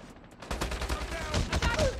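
Rapid gunfire in Call of Duty Mobile during a ranked Hardpoint match, a dense burst of close shots starting after a brief quiet lead-in and continuing to the end, with a faint voice underneath.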